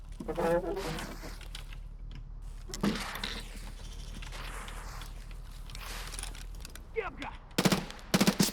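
Gunfire in the shooter game Escape from Tarkov, bursts of sharp shots cracking in quick clusters near the end after a stretch of quieter ambient noise and footsteps, with a voice talking early on.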